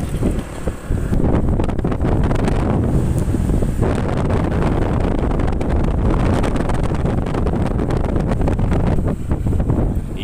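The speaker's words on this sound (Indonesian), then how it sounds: "Sekarang test drive unit PCX." Heavy wind buffets the microphone during a test ride on a Honda PCX scooter, a loud continuous rushing roar lasting the whole ride with no talking.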